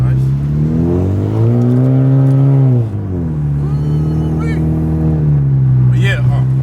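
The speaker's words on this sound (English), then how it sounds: "That's a drift car right there." A drift car's engine revs up and holds a high, loud tone, then drops and rises again as it passes close by on the road, with people talking over it.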